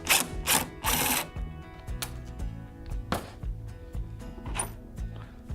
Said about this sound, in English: We're going to be removing these 2 screws from the side panel.